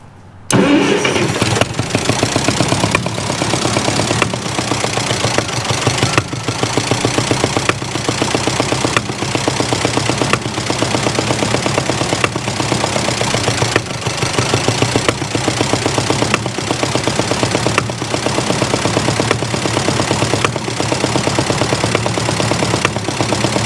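A 1949 Ferguson TEA 20 tractor engine cranks, catches and keeps running with a loud, close, rhythmic chugging beat that stays steady for over twenty seconds.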